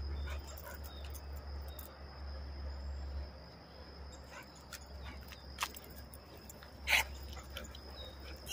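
A sick young American Bully XL puppy gives faint, brief high whimpers outdoors, a couple of thin cries over a steady drone of crickets and a low rumbling hum.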